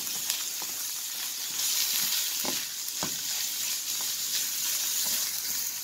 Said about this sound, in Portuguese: Agora que eu já dei uma leve refogada na cebola, eu vou colocar a carne moída. Olha só, vou mexer